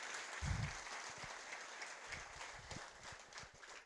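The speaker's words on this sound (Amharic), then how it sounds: "ጭብጨባችሁ ግን የጉባኤ የእንትን ስብሰባ ነው።" A church conference audience at a tenth-anniversary celebration applauds: faint, steady clapping that sounds distant, with a few soft low thumps scattered through it.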